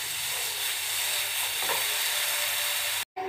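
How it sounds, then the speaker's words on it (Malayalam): Sugar melting in a pan for a simple pudding while being stirred, a constant close sizzling hiss with soft scraping of the spoon, ending in a brief cut to silence. "പഞ്ചസാര ആഡ് ചെയ്യുമ്പോൾ ഒന്നുകൂടെ മെൽറ്റാവും. നന്നായിട്ടൊന്ന് ഇളക്കി കൊടുക്കാം."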